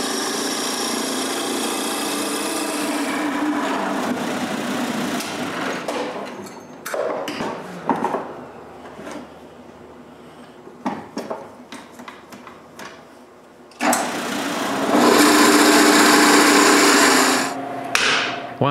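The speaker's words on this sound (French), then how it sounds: "je peux percer des gros trous à chaque extrémité de chacun de mes blocs" A drill bores large holes in the ends of wooden blocks in a woodworking shop. Loud grinding bursts at the start and end frame a quieter middle stretch of clicks, knocks and handling noises.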